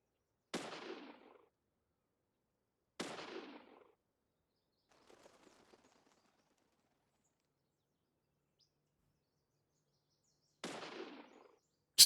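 Gunfire from an FBI agent's weapon in the video game Deadly Premonition, outside a hospital: three sharp, loud single shots spaced far apart, with a faint rattle between them and near-silence elsewhere.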